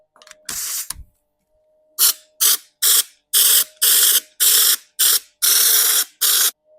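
A paint spray gun hisses in short, sharp bursts while painting a Unimog 421 cab, roughly eight quick sprays after one opening burst, each stopping abruptly, close and loud.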